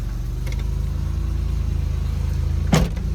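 Peugeot 604 V6 Ti engine running just after starting, a steady low rumbling idle heard close and loud, with a brief bump near the end.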